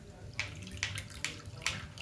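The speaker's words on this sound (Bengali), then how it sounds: "ছেঁকে নিয়ে নিচ্ছে দুধটা।" Coconut milk strained and squeezed out of grated coconut soaked in hot water, liquid splashing and trickling close by in steady, rhythmic bursts roughly every half second.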